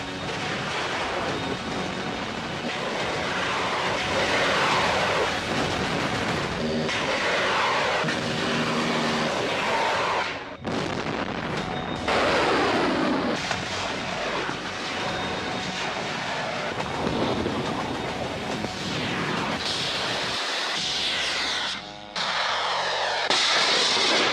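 Military drones fly past in an Iranian IRGC naval exercise with a loud, sustained engine drone, the roar rising and falling as they pass, with a few brief gaps.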